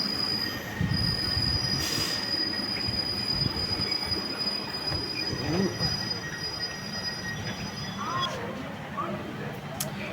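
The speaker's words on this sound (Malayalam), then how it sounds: "നല്ലൊരു റെയിൽവേ സ്റ്റേഷൻ കേട്ടോ തിരുച്ചിറപ്പള്ളി ഫോർട്ട്" Train wheels squeal in steady, high metallic tones at Tiruchirappalli Fort railway station, loud and continuous throughout, with a rumble of railcars underneath and faint voices in the background.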